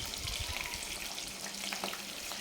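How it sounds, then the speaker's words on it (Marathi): Green chillies deep-fry in oil with a steady, close hiss and fine bubbling crackle that holds evenly throughout, with no talk. "मिरच्या बी त्याच्यातच तळून घेणार आहे मी"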